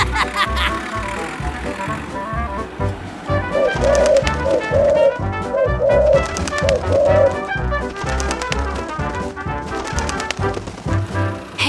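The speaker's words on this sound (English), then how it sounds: "Let's check out all those birds flying around." Pigeons or doves coo in a repeated soft rolling pattern over a busy backdrop of rhythmic music and chattering, giggling voices, the coos fairly close and recurring through the middle.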